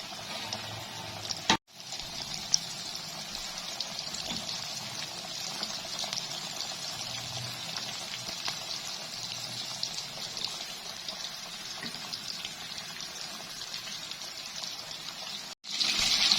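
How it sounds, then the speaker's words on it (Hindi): Chicken wings deep fry in hot oil, KFC style, with a continuous bubbling hiss that holds steady and close. Two brief drops to silence break it near the start and near the end. "मज़ीद इसमें डाल के फ्राई कर लेंगे।"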